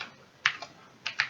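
A few crisp keystrokes on a computer keyboard while entering a command, two quick pairs of clicks, close and clear against a quiet background.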